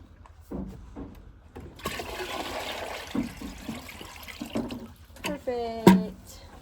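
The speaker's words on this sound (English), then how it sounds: "I'm gonna pour that one out so that way in the morning we'll have a bucket that doesn't have ice in it" Water poured out of a bucket onto snow at a horse barn, a rushing splash that builds from about two seconds in and runs steadily before tapering, with a brief louder tonal knock near the end.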